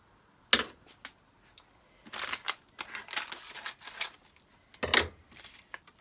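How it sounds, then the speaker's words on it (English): A knife chops mozzarella, artichoke hearts and sun-dried tomatoes on a cutting board in an RV kitchen. It gives close, uneven knocks and scraping strokes, some in quick bursts, with no talking. "So we'll go ahead and we'll get that cut up."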